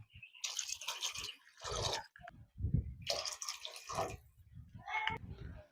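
Water splashes and gurgles into a pot of fish curry in several uneven bursts, close by, with short pauses between pours.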